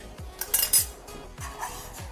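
A metal lid clinks down onto a cooking pan of Bengali small fish curry with bitter gourd, giving several short clattering metallic knocks and rattles, close and fairly loud with no talk.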